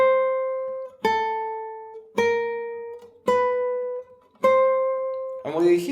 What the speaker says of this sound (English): what you hear is that the note will sort of glide into that midpoint and then scoop up into the next note